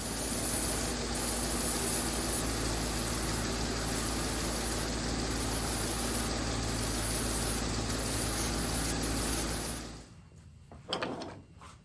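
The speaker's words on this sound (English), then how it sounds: "I use the belt grinder to even up the edges." A belt grinder evens up the edges of a leather sheath for a Damascus chef's knife: a loud, steady, close whirring grind runs for about ten seconds, then cuts off, followed by a few faint handling knocks.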